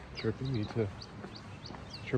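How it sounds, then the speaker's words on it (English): Birds chirp with short, bright high calls scattered across a peaceful valley along a walking route, mixed in with people talking nearby. "The birds chirping"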